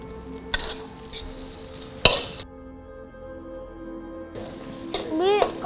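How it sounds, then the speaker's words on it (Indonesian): Food is stirred and fried in a pan in a home kitchen, giving a steady sizzle with scraping stirs and sharp clanks, close by, with brief background voices near the end. "Biar Biningsi aja yang nyelesain masakannya"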